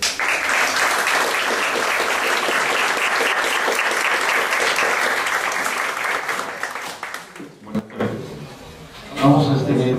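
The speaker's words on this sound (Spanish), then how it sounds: "Saludamos al doctor Quimper con un fuerte aplauso." An audience applauds to welcome Dr. Quimper before his talk on abortion in Peru: dense, loud clapping sustained for about seven seconds, then it thins out and fades as a few scattered claps and a voice follow.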